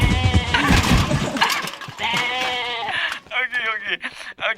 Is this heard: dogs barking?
no